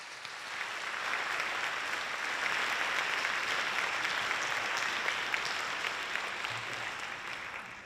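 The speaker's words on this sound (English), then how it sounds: "Please give these 4 students a round of applause." A school spring band concert audience applauds four students, a sustained, even wash of clapping from a large crowd that swells in and gradually tapers off.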